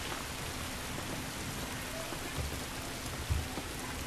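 Steady rain falls in the video game The Last of Us, a dense, even hiss of drops with a couple of soft thumps, continuous and without voices.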